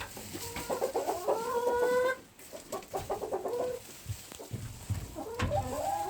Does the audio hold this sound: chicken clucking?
yes